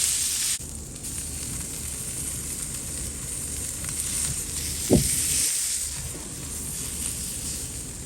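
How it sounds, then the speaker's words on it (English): Ribeye steaks searing on a Primo Kamado grill, a soft, steady sizzle and hiss heard close and moderately loud, with one brief sharp tap midway and no voices. "Now we got the sear on both these steaks"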